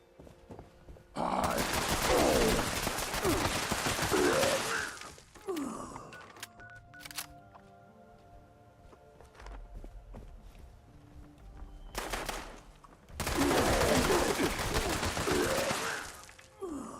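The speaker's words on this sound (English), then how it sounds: "That was not a good bit of shooting." Two long bursts of rapid gunfire from a shooting session in Fallout 76, each several seconds of dense, loud shots, with quieter ambience and faint tones in the gap between them.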